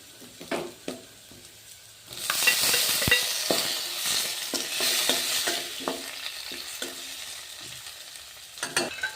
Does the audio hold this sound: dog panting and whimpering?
no